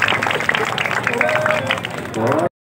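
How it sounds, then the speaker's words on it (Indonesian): Crowd applause for the Fortuna football team at a tournament closing ceremony, dense and steady through most of the stretch, mixed with crowd noise and a voice talking over it before stopping abruptly. "kita tepuk tangan untuk kesebelasan Fortuna"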